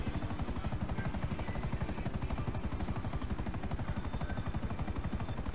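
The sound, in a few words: helicopter flying in video game GTA V Online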